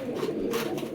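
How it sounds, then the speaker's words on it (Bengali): Big English pigeons, top-quality racing stock, give a soft, steady coo that carries through the whole short stretch, close by and at moderate volume, with no talking over it. "দেখেন কত সুন্দর কবুতর"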